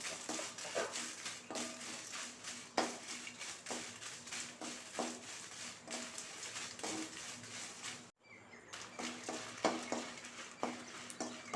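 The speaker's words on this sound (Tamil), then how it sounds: "அடுத்தது மிளகாய் வறுத்துக்கலாம்" Dry red chillies tossed and stirred in a hot pan for idli podi, giving faint, steady scraping and light clatter of spoon on metal with soft intermittent taps.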